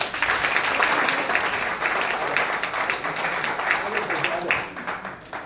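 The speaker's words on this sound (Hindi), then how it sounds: "सर, के लिए जोरदार तालियां।" An audience at a meeting claps together for an honored guest, a dense, steady wash of applause that fades slightly toward the end, with some voices mixed in.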